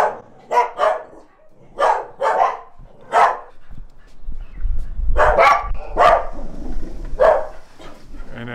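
Dogs bark repeatedly near an outdoor patio by a laundry area at a house in Mexico, sharp barks coming in irregular bursts, with a low rumble in the background.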